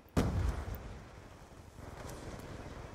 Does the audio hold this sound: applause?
no